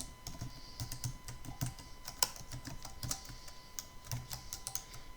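Quiet, close keystrokes on a computer keyboard while entering cell text in a Microsoft Excel spreadsheet, a steady run of light clicks with one sharper tap midway.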